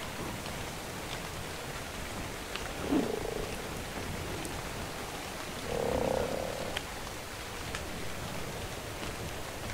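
A frog mount croaks in ARK Survival Evolved, two low throaty croaks a few seconds apart over a steady hiss of rain-like ambience.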